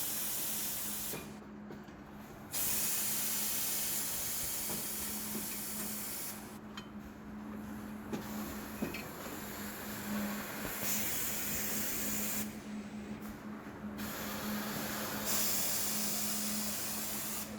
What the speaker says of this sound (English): A robotic arm rhythmically picks up the small bags of Twinkies and arranges them in a 4x2 formation at the incoming conveyor of the cartoning machine.